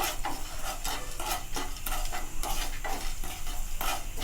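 Rock salt dry roasting in a pan, close rhythmic scraping and stirring strokes with a faint gritty crackle, repeating steadily with no voices.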